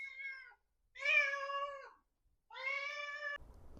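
Zoe the cat meows persistently, three drawn-out, insistent cries separated by short pauses, clear and close, with a faint rustle at the very end.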